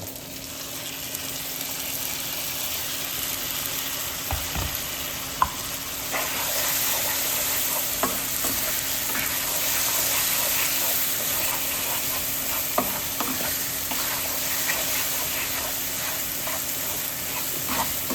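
Chopped apple stirs and cooks in a pan with a soft, steady sizzle and occasional scraping knocks of the spoon, fairly quiet and close, with no talking.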